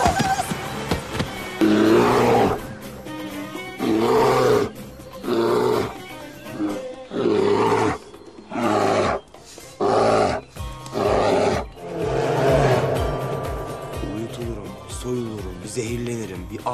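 A bear roars in a Turkish romantic comedy film, loud growling bursts mixed with music and frantic shouting voices, the roars coming in several heavy waves.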